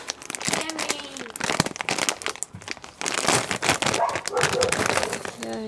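A Ziploc bag holding chocolate chips crinkles and crunches up close in a home kitchen, in irregular bursts of plastic rustling, with a voice talking in the clip.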